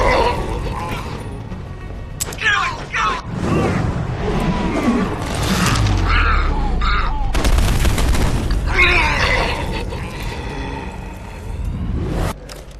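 Typhoon missile launcher explosions in Deus Ex: Human Revolution, several loud booms and bursts of blast noise scattered across the span with a narrating voice talking over them.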